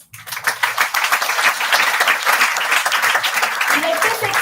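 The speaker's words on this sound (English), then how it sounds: "Please give a round of applause." An audience at an academic research conference applauds, brisk close hand clapping that starts suddenly and holds steady and loud to the end.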